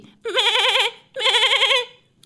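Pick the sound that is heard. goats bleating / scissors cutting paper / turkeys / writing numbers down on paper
goats bleating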